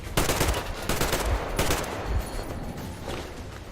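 Gunfire in the Metro Exodus video game during a fight on a train: dense, loud bursts of shots crackle through the whole stretch, with several sharper blasts standing out among rapid firing.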